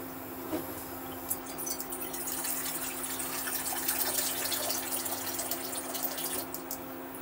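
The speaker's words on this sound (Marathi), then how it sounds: "आता यात आपण पाणी टाकूया." Water is poured into a cooking pot of peas pulao after the rice mixture has been lightly fried, making a soft, steady gushing stream that runs for several seconds at a fairly quiet level.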